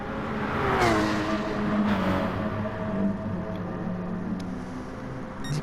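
Porsche Cayman race car engine running at night on the Nurburgring Nordschleife in a racing game, a steady close engine drone with rising and falling pitch as gears change, no voices.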